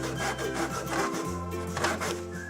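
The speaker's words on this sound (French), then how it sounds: "Il faut bien que la scie morde." A hand saw cuts through wood in a home workshop, steady rasping back-and-forth strokes up close, with a brief pause mid-stroke, no voices.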